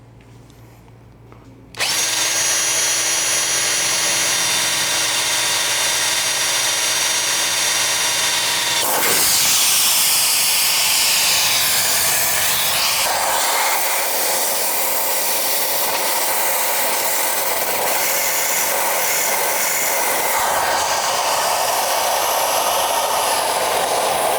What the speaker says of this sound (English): All right, and then we drill.